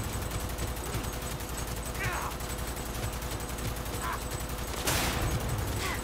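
Sustained suppressive gunfire in the video game Cyberpunk 2077: loud, dense rapid-fire shots run continuously with only brief sharper bursts and no pauses.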